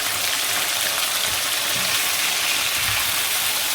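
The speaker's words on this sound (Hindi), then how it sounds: "चिकन को भून लेंगे" Small chicken pieces fry in a pan with golden-browned garlic, giving a steady, fairly loud hiss and crackle of hot oil with a few stirring scrapes underneath.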